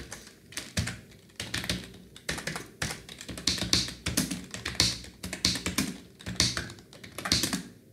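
Steady, fairly loud keystrokes on a computer keyboard while Bangla text is entered, clicks arriving in quick uneven bursts with short pauses between them and no voices.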